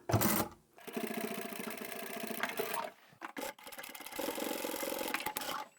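Sewing machine stitching a fabric pouch, running in two long bursts of rapid, even needle chatter, briefly interrupted by a pause and a few clunks near the middle.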